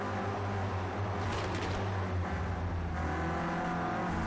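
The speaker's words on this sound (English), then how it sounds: "All the cars screaming through the chicane there." On board a Renault Clio Cup race car, the engine drones loud and constant at high revs, with a slight shift in pitch midway and a faint whoosh of another car nearby.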